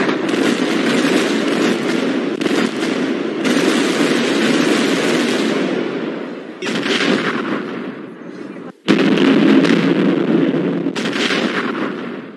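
Missiles exploding in a violent barrage at a military equipment depot in the Owuor region: a loud, dense, continuous roar of blasts and crackling detonations that dips briefly near the end, then surges back.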